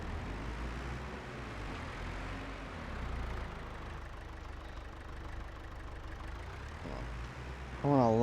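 Tractor engine idling in Farming Simulator 22, a steady low mechanical hum held at moderate level throughout, with a brief rise in pitch at the very end.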